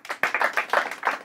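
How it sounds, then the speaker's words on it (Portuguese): A small group claps briefly at a quiz-style scoring session, a quick run of close, sharp hand claps lasting barely over a second with no talk over them. "palmas para a Sofia"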